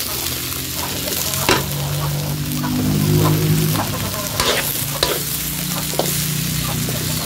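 Pinakbet vegetables sizzle steadily in a hot pan while a spoon stirs and scrapes through them, with intermittent clacks and scrapes over a continuous frying hiss, close and moderately loud.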